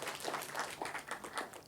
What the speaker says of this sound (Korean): 박수 한번 다시 쳐주세요